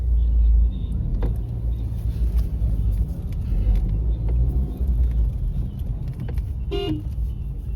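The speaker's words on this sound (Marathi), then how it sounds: "बाजाराच्या दिवशी लय ट्रॅफिक जाम होता" Road traffic crawls through a crowded Konkan market-day jam; a steady low engine rumble fills the scene, with a sharp car horn toot near the end and voices mixed in.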